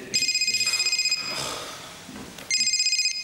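A phone ringtone trills in bright, rapid pulsing bursts, sounding twice with a pause between, while a voice talks faintly underneath.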